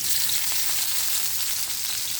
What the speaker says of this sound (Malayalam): ഇനിയിപ്പോൾ നമുക്ക് ഈ സെയിം വെളിച്ചെണ്ണയിലേക്ക് തന്നെ നമുക്ക് സവാളയും കൂടി വറുത്തെടുക്കാം